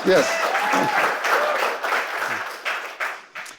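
Audience at a school foundation presentation cheers and applauds during a ribbon-cutting announcement for a new elementary school, a dense steady wash of clapping and shouts that tapers into scattered claps.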